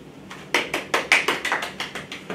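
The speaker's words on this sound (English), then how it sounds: "Please give a round of applause" A small group claps in an even, steady rhythm, about a dozen close, distinct claps in a short round of applause.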